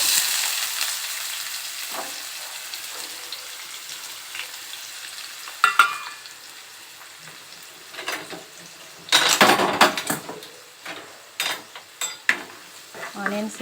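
Onions fry in a pan with cloves, cardamom and a piece of cinnamon, a faint sizzle at first, then louder scraping stirs and clinks of a utensil against the pan in irregular bursts.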